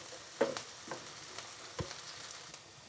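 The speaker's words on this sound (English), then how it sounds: "We now add the curry leaves. Give it a quick stir." Curry leaves sizzle in hot oil for a prawn masala with coconut milk, a faint crackle with a few sharp pops and brief scraping stirs, quiet and close, no talk.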